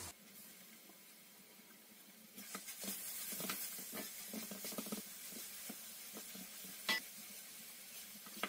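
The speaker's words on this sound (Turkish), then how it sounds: "Havucun rengi iyice yağ çıkana kadar yağda böyle çeviriyorum" Grated carrot with onions is stirred in hot oil in a pan, a soft steady sizzle under repeated scraping and stirring taps, quiet and close.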